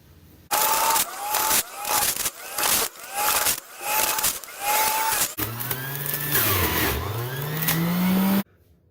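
An electric brewing juicer works through crabapples in a string of loud motor bursts separated by short pauses, then runs continuously for about three seconds with a wavering tone before cutting off.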